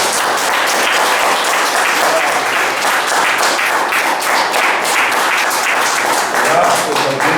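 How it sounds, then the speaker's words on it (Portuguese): Congregation at a Portuguese-language church talk applauding steadily, a sustained wash of many hands clapping at even loudness, with faint voices mixed in. "Vamos aplaudir a Jesus Cristo."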